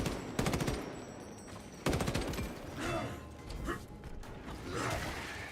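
Video game gunfire as a weapon's magazine is emptied: two rapid automatic bursts of shots, each with a sharp onset, followed by mechanical clicks and rattles, fairly close and moderately loud.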